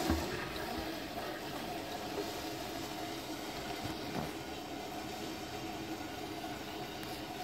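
Water pumped from a barrel up into a solar shower panel makes a steady, even flowing and gurgling wash that holds at a constant level throughout, with no talking.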